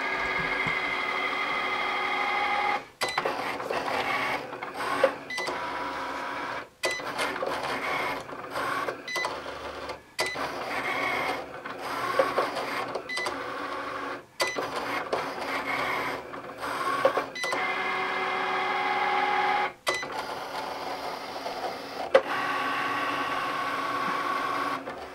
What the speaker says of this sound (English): So we're going to go ahead and click the blinking Cricut button here.